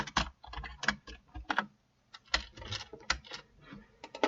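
Rapid clicking of keys on a computer keyboard while programming, with uneven bursts of close, crisp keystrokes and one short pause midway.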